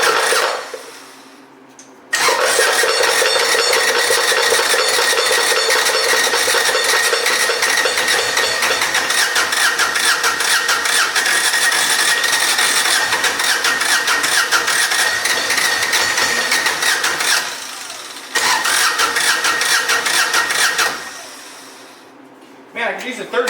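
A Kawasaki Mule utility vehicle, broken but on a fresh battery and full choke, cranks briefly, then its engine catches and runs loud and steady, drops off near the end, restarts, and cuts out, with someone speaking at points.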